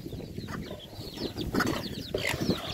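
A hen with a chick in a farmyard, soft clucking and peeping with a brief rustle of feathers, close and moderately loud, no talking.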